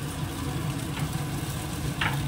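Bengali masala with Kashmiri red chili sizzles steadily in a pan for a nearby rasa of potol and okra, with a couple of brief scraping stirs near the end.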